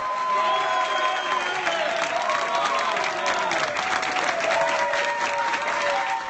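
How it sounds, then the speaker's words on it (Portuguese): An audience at a Brazilian awards ceremony gives sustained applause mixed with crowd noise and jeering, fairly dense and continuous throughout, with a steady tone running beneath. "Nassar foi aplaudido por alguns e vaiado por outros."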